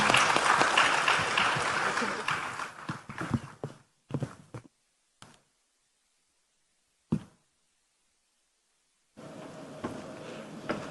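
An audience applauds the moderators and panelists at the Africa Health Sovereignty Summit 2025 with a dense, loud burst that fades out. A few scattered claps follow, then broad crowd noise returns near the end.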